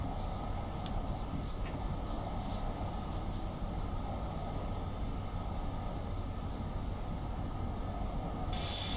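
Amtrak F59PHI diesel locomotive hauling a Pacific Surfliner in Train Simulator, a steady, loud engine drone with rolling wheel noise that holds throughout, with no talk.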